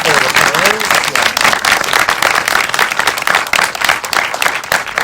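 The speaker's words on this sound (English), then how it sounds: "Let's give a round of applause for the panelists." An audience at a USC entertainment panel gives the panelists a loud, dense round of applause, with voices talking over the clapping throughout.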